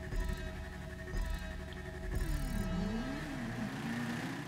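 Car engine in GTA V Online, a steady mid-pitched drone with a rising rev partway through, moderately loud and continuous with no talk over it.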